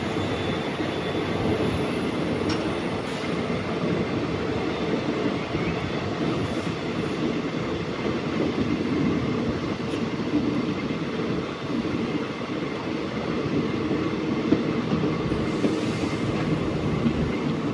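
Passenger train on the Guwahati to Dimapur line, a constant, even rumble of wagons on rails with soft rhythmic clickety-clack, recorded from inside the moving carriage.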